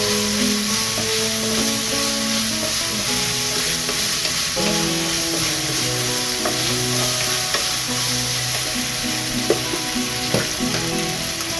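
Pork sizzling hard in its own rendered fat in a pan, a loud, dense, steady crackle close by with occasional stirring pops and faint tonal music underneath.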